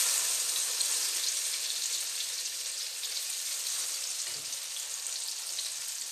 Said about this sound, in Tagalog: Ito ang ating pritong talong.